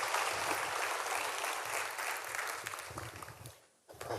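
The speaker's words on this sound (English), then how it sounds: "Round of applause." Conference audience applause at a recovery event, dense sustained clapping from a large crowd that carries steadily then cuts off abruptly near the end.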